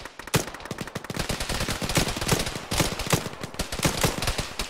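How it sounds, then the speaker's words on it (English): Sustained machine gun fire in the Arma video game crackles loud and close as rapid overlapping bursts and single shots pile up into a continuous, dense barrage. "There's a fucking machine gunner west, I can't see him."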